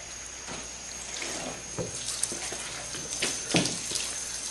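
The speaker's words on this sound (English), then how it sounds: "I'm gonna walk that water across this back window" A hose stream sheets water across a car's back window during a two-bucket wash. The water makes a steady, close hiss and patter with a few splashy bursts.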